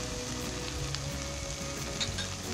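Kokani chilli masala tipped into hot oil for a spinach curry, a steady close sizzle with a low rumbling undertone and a few faint spoon clicks, no talking.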